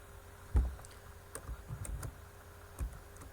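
Computer keyboard keys clatter in short irregular bursts, quiet and close, with a heavier thump on one key amid several lighter taps during Python coding.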